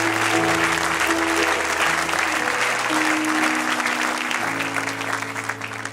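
A church congregation breaks into sustained, dense applause, loud and even for several seconds, then thins toward the end, with faint speech and tones underneath.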